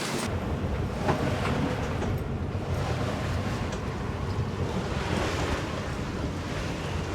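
Steady rush of wind buffeting the microphone over the wash of choppy Lake Erie waves on a sailboat, continuous and fairly loud with no talking.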